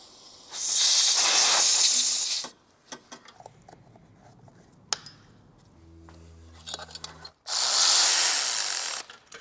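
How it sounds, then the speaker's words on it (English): Liqui Moly electronic contact cleaner sprayed during repair work on a Mercedes E55 AMG, two loud sustained aerosol hisses of about two seconds each with clicks and small handling noises from the work between them. "Liquid moly electronic contact cleaner."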